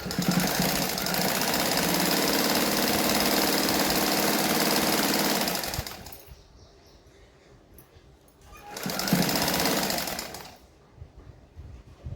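A sewing machine stitches a katori blouse in steady, continuous mechanical whirring for several seconds, stops, then runs again in a shorter burst, close and fairly loud with no talking.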